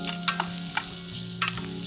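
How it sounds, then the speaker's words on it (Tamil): Chopped onion and garlic sautéing in a pan, a steady soft sizzle with a low hum beneath and a few brief scraping stirs of the spoon, close and moderately loud, no voices. "இந்த வெங்காயம் கொஞ்சம் கலர் சேஞ்ச் ஆற வரைக்கும் நல்லா வதக்கிக்கலாம்."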